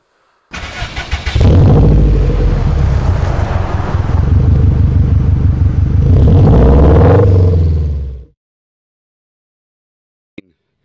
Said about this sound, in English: I'm going to take out this beautiful BMW R1200RS for a test ride